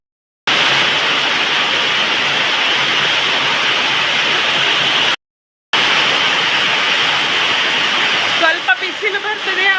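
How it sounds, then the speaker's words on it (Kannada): Heavy wind-driven rain roars steadily outside in a dense wash of noise, broken by a brief cut, with a voice briefly audible near the end. "ಹೊರಗೆ ಜೋರು ಮಳೆ ಎಷ್ಟು ಮಳೆ ಬಂದರೂ ಮುಗಿಯೋದಿಲ್ಲ"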